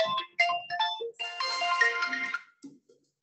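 A phone ringtone rings out in a melodic, repeating tone pattern, loud and close, for about two and a half seconds before cutting off during a university civics class.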